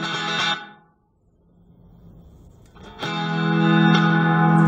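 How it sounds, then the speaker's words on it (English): Distorted electric guitar chord through a Fender Mustang Mini amp with a reverb tail decaying into a washy ambience, then another strummed chord rings out loud and sustained. "First kind of reverb."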